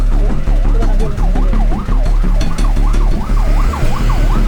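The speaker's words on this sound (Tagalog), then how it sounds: "Ambulansya na." An ambulance siren wails loud and close at a road accident where a rider was struck, its rising and falling tone repeating steadily over a heavy low engine rumble.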